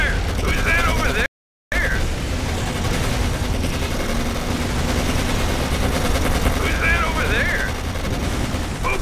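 Rapid machine-gun fire crackles through a dense wartime battle in Codename Panzers Phase One, continuous bursts over rumbling background noise with a brief dropout near the start.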